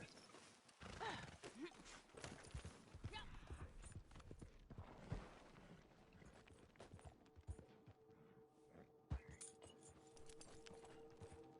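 Clip-clopping hooves trot along amid busy game sound effects, with a horse whinnying and some voice in the mix.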